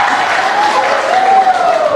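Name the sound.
school audience applause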